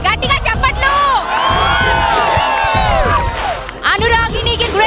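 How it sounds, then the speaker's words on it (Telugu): Loud crowd at a college culinary and hospitality academy event, cheering, whooping and shouting continuously with applause-like noise, energetic voices and excited cries filling the whole stretch. "గట్టిగా చెప్పట్లు."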